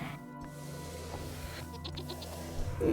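Goats bleat in the Vintage Story video game, a few short calls heard at low level over a steady background hum with no talking.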